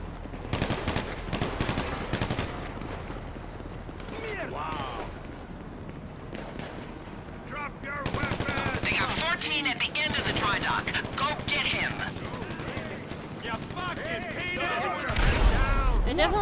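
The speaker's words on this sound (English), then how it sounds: "I'm using my carbine rifle." Carbine rifle gunfire in GTA V Online, with sustained bursts of automatic shots crackling through most of the stretch. Players talk over the shooting throughout.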